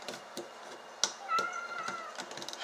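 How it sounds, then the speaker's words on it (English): A pet cat named Sinbad meows softly indoors, a thin drawn-out cry at moderate distance, amid light taps and small handling noises. "So that's just my cat meowing at me."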